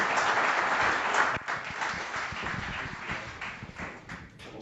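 Audience applause for finalists in an undergraduate track at an entrepreneurship pitch competition: a dense, steady wash of many hands clapping, loud at first and then thinning and tapering off toward the end.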